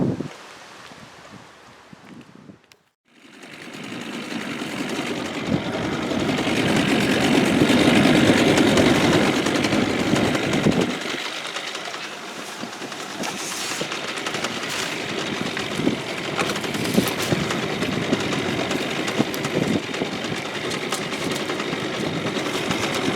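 An outboard motor on a boat runs and idles after a repair, a steady close engine drone with wind buffeting the microphone, briefly cutting out near the start before resuming.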